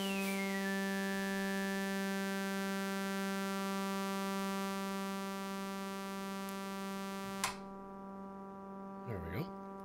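Behringer Crave synthesizer holding a steady, constant-pitch drone with the VCA mode switched on, a rich stack of harmonics sustaining evenly for most of the clip before cutting out, followed by brief faint handling noise.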